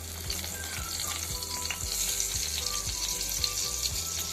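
Cinnamon and bay leaf crackle and sizzle in hot oil in a home kitchen while preparing chicken fry, a steady frying hiss with rhythmic stirring taps throughout.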